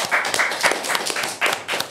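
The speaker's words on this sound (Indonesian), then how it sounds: "Tepuk tangan." Clapping from a small audience during a podcast recording, a handful of distinct, fairly close and loud claps in an uneven rhythm, with no one speaking through it.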